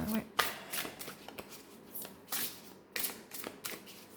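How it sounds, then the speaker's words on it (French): A deck of cards, laid out for a divination draw, is shuffled by hand in a series of quick riffling bursts with short pauses between them, close and fairly loud. "Je prépare les cartes et je vous retrouve."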